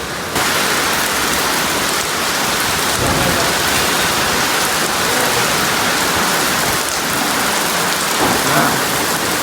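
Heavy rain pours down steadily with a dense, loud hiss close by, and low rumbles of thunder roll underneath.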